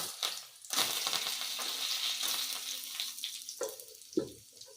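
Chana dal dropped into hot oil in a home kitchen, a steady close sizzle and crackle that rises after a brief pause, with a few clinking knocks near the end.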